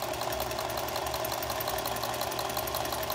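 A Singer 431G sewing machine fitted with a low-voltage motor runs steadily while sewing denim, producing a continuous loud mechanical whir with a fast, even rattle and no voices.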